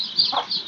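Chickens and young chicks make a brief, close burst of soft clucking with thin, high peeping above it, lasting under a second.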